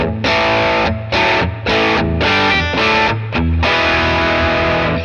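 A distorted electric guitar through a Sonicake Matribox II Pro chugs out rhythm chords in short bursts separated by brief gaps, loud and thick, then sustains a final chord.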